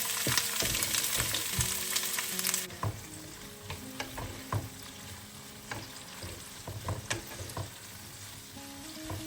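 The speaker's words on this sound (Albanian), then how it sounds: "do t'i vendosim të skuqen me pak vaj në temperaturë mesatare duke i përzier her pas here" Sliced peppers fry in a little oil over medium heat, giving a loud, dense sizzle at first that settles into a steadier crackle, broken by repeated clinks and scrapes of stirring.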